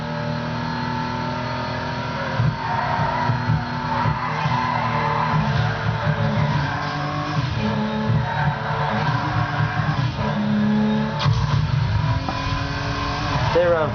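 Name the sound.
car engine revving while driving, from video game Midnight Club LA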